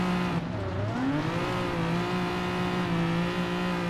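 Race car engine accelerating in Gran Turismo Sport, a sustained, loud revving drone whose pitch climbs and shifts with gear changes, with no other sounds over it.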